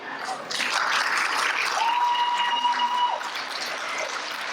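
An opening-ceremony crowd at a wood festival breaks into applause, rising after a short lead-in and holding steady, with a sustained whistle-like tone and voices partly mixed in.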